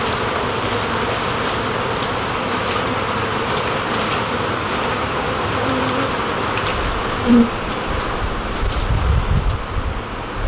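A dense, steady hum of many honey bees buzzing nearby in a boat, with some wind rumble and a few soft thumps toward the end.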